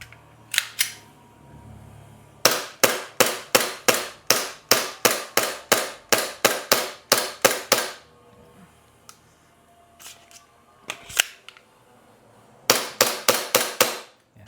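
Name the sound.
Umarex Glock airsoft pistol being test fired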